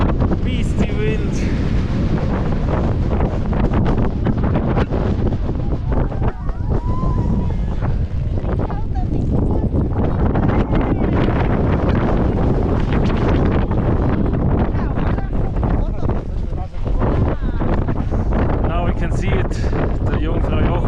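Strong wind at Jungfraujoch in the Swiss Alps roars across the microphone in a loud, unbroken rumble, buffeting throughout with faint voices mixed in beneath the gusts.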